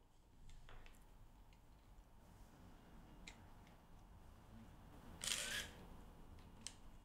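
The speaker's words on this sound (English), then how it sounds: "That's really gentle shutter sound." A single soft, crisp shutter release from a Contax RX film camera, close and quiet against low background hiss, with a few faint ticks around it.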